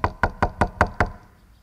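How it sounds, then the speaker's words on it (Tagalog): Knocking on a jeep: six sharp, evenly spaced knocks in quick succession, close and solid, then silence. "Pag may kumakatok dyan sa jeep,"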